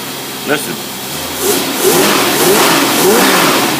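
A small Predator engine revs up and settles in repeated pulls after carburetor tuning, close by, with someone talking over it.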